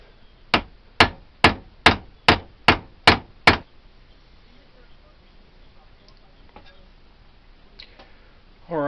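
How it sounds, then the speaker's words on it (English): Hammer blows peen the rivets on an English trade knife handle, eight sharp metallic strikes in a steady rhythm, close and loud, followed by quiet shop noise. "first we'll go ahead and get these rivets peened"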